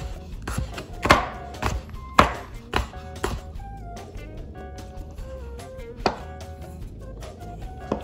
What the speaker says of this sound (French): on va couper des petites tranches comme ça, des lamelles en fait